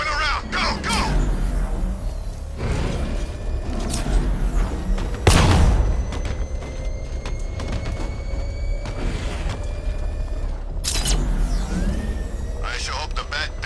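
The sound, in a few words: explosion in Batman Arkham Knight video game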